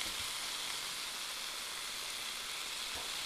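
Meat sizzling and frying in a hot skillet during a stir-fry, a steady broadband hiss that runs evenly throughout with no talking.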